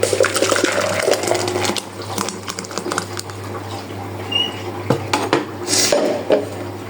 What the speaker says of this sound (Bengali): এখন আমি এটা জগে ঢেলে নেব।